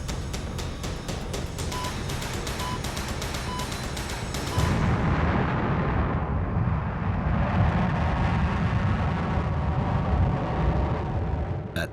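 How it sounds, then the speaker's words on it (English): A Proton rocket lifts off in a powerful, roaring rumble that swells suddenly midway and keeps going as a loud, broad, continuous blast. "the Proton rocket took off"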